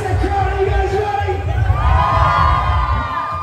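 A crowd at a breakdance battle whoops and cheers loudly and continuously, a dense roar of voices and shouts filling the hall.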